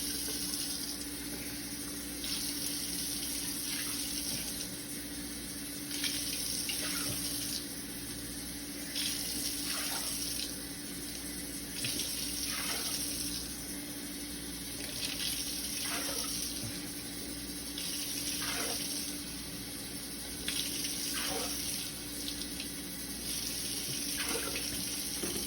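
Kitchen tap water running into a measuring cup to fill four cups, a steady faucet stream with several pauses and restarts as the flow is turned on and off, accompanied by a faint constant hum.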